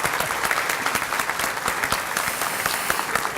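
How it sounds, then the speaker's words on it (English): An audience applauds an award winner at a Kentucky homeland security briefing, a dense, steady round of clapping throughout with no voices over it. "give a nice round of applause to Amber Farmer."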